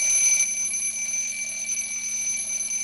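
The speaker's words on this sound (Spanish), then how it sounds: "Ah, es un despertador." An alarm clock rings in a hospital corridor in Silent Hill 3, a continuous high electronic tone held steady and loud, with no other sounds over it.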